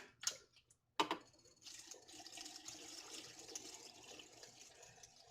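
A sugar and water mixture is poured into a jar for making apple scrap vinegar, heard as a steady, soft liquid trickle and splash that follows a couple of sharp clinks and runs for several seconds.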